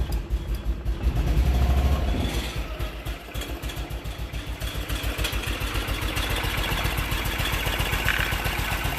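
A BMW Isetta's small single-cylinder engine cranks, catches and settles into a rapid, even putter at idle, loud and close, after a brief whine of the starter; no voices.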